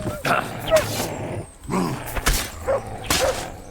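A dog in Kingdom Come Deliverance 2 barks and yips several times in short bursts close by, mixed with game sounds and some talk.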